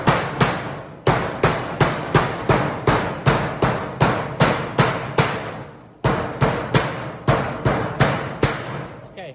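Sheet-metal seam lock on rectangular ductwork struck with a hammer at an angle, a steady run of sharp, close metallic blows about twice a second, with a brief pause before the strikes resume.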